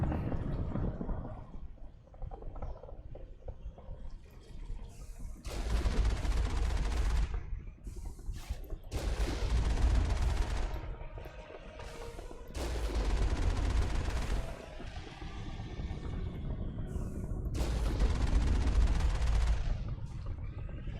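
Turret gunfire in the Mass Effect video game comes in several loud bursts of rapid shots with short gaps between them, against a steady background of game sound.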